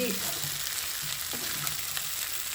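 Black beef fry sizzling steadily in a pan, a dense continuous crackle of hot oil with occasional stirring scrapes, close and fairly loud with no talking.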